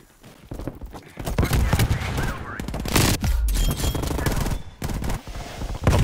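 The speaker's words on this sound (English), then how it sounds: "I've been shot, Billy." Rapid bursts of gunfire from a Hardpoint match on the Nuketown 84 video-game map crack out repeatedly at close range, with a voice briefly audible between the volleys.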